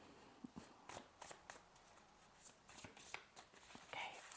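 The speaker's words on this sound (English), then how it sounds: "I'm shuffling away." Tarot cards shuffled by hand at close range, a quiet series of soft riffling slaps and papery flicks in uneven bursts, with no talking.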